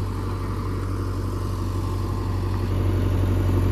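A Kubota tractor engine runs steadily at a low idle-like rumble, close and loud, getting slightly louder toward the end with no voices over it.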